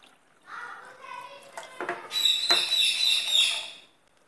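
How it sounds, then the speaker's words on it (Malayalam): Water is poured into a pressure cooker holding washed broken wheat, a rising gurgling splash in the second half after some quieter, indistinct sounds. "ഇത് വേവാൻ ആവശ്യത്തിന് വെള്ളം ഒഴിച്ചു കൊടുക്കാം."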